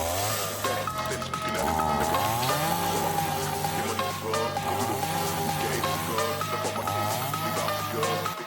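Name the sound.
Tekhmann CSG-1840 petrol chainsaw running and cutting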